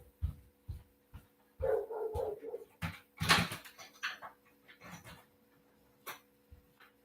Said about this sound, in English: I don't know what these people are doing to this dog.